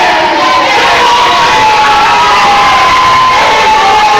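A wrestling crowd at a Thanksgiving event cheers and shouts in a loud, unbroken roar of many voices, with excited yells carried on top throughout.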